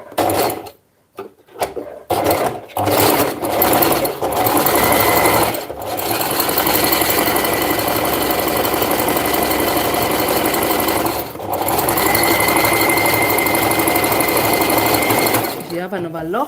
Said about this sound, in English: This we're just doing it with a zigzag stitch